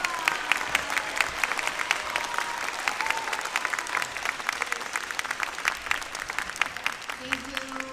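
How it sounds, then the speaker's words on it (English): Audience applause for middle school concert and symphonic bands at a winter concert, steady dense clapping throughout with faint voices mixed in near the end. "Let's give these groups a round of applause."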